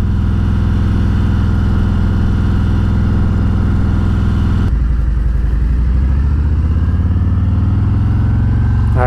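Harley-Davidson Road King from 2019, fitted with a Rinehart Racing DBX45 slip-on exhaust, held near 2,500 RPM in first gear, a loud steady low rumble that shifts to a deeper throb partway through.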